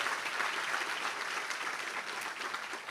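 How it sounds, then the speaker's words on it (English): A crowd applauds at a city State of the City event, a steady, even wash of many hands clapping at moderate distance, sustained throughout with no speech over it. "We should give Marcia a big round of applause for all of her hard work."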